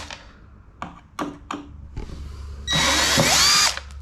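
Several light taps and clicks precede a loud, close burst of a power drill spinning out a headlight bracket screw on a Land Rover Discovery 3, lasting about a second before stopping.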